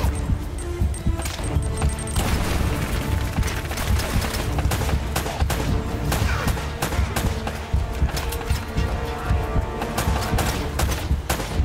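Gunfire in the video game Uncharted: Drake's Fortune, a loud and sustained barrage of rapid shots and bursts that runs dense and unbroken throughout.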